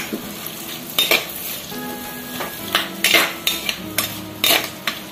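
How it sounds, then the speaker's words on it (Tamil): Onion, fennel seeds, curry leaves and green chilli fry in hot coconut oil with a continuous sizzle. A spoon scrapes and taps against the pan in quick, irregular bursts. "நல்லா கொஞ்சம் ஃப்ரை பண்ணிக்கலாங்க."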